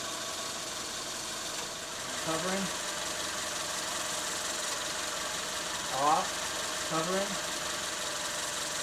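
A 1991–1995 Honda Civic DX idles with a steady, faint hum recorded low near the catalytic converter, while someone speaks a few brief words over it.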